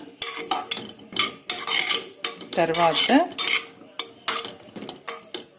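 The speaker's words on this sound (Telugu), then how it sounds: "నెయ్యి వేసి ఒకసారి అంతా ఇలా కలపండి" Sweet potatoes being stirred with ghee in a metal pot, a spoon scraping and clinking against the sides in repeated bursts, close up, with a brief spoken word among the strokes.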